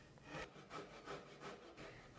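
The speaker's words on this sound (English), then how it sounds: "I flipped the plank around to saw off the other pesky, unusable end piece" A handsaw cuts the end off a wooden plank in quick, rhythmic back-and-forth strokes, about four per second, quiet and close.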